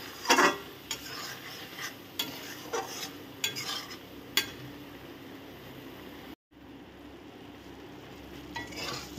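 Ridge gourd with poppy seed paste stirred in a pan, a soft ongoing sizzle broken by repeated scraping and clinking of a spatula against the metal, with a brief silent break partway through.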